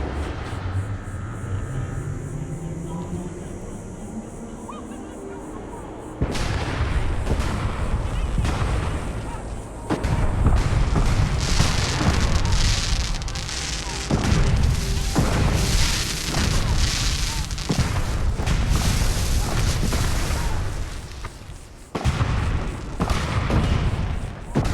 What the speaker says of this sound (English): I don't remember there being a little fireworks show.